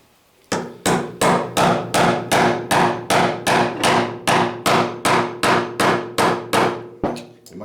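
A hammer strikes repeatedly to drive a pin out of a Tremec T5 manual transmission, about fifteen sharp, evenly spaced metallic blows close up, each ringing briefly before the next, then a final lighter tap.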